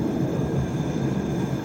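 Diesel passenger train on a Devon and Cornwall branch line rumbles steadily in a brief, close, low engine drone with an even mechanical hum and no voices.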